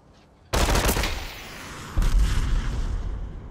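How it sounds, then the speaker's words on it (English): Two heavy rocket blasts in a video game, each a sudden loud boom with a long rumbling decay, the second arriving about a second and a half after the first, mixed with crackling gunfire and no talk. "Wow, he must have a lot of rockets."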